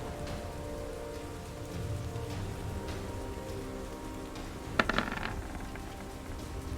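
Steady rain patters continuously at a soft, even level, with a brief cluster of sharper drips or taps partway through.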